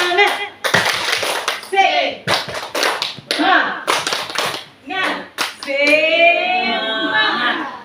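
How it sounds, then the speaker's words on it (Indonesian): A group claps in a patterned rhythm of quick bursts, interleaved with voices chanting and speaking, ending in a sustained shout of "Semangat" during an Indonesian group spirit-clap. "kita tepuk semangat lagi biar tambah semangat"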